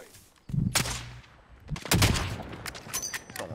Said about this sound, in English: Someone's still shooting at me from somewhere.